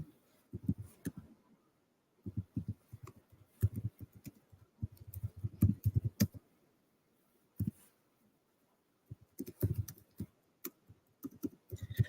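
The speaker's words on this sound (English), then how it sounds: "I'm just typing in somebody's stream like a dummy" Typing on a computer keyboard, heard as bursts of rapid close clicks broken by short pauses, with no talking.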